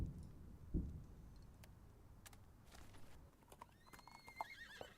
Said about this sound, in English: So a clump of hooves and a soft neigh brings your head around.